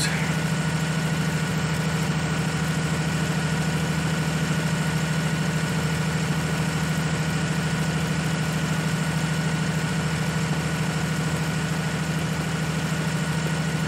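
A tractor engine in Farming Simulator 19 drones steadily while working a field, a constant mid-pitched hum with a slight vibration that carries on unbroken and fairly loud throughout.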